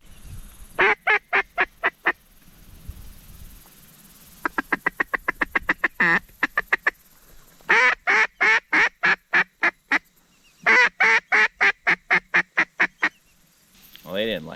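Ducks quack and honk in rapid repeated bursts as they fly over a public marsh, calling loud and close in several rhythmic volleys separated by quiet gaps, with wind audible between calls.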